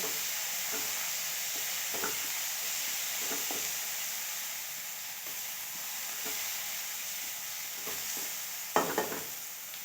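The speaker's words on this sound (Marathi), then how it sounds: "आता वाटण परतून घ्यायचे आपल्याला टोमॅटो नरम पडेपर्यंत वाटून परतायचे" Ground masala paste and tomatoes sautéing for a chickpea-leaf bhaji: a soft continuous sizzle under intermittent spatula scrapes and taps, ending in a couple of sharper knocks against the pan, with no speech.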